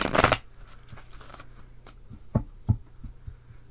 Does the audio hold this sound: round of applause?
no